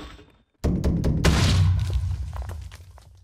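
A loud explosion from a Minecraft mod bursts in suddenly after a moment of silence, a heavy booming blast whose low rumble and scattered crackles slowly fade over the next few seconds.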